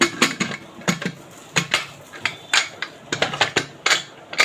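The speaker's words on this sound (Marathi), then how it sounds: "आता कुकर लावून घेऊया" A pressure cooker holding lentils in water with turmeric is closed and set up, producing a quick series of close, sharp metallic clacks and knocks in an irregular rhythm, with no voices.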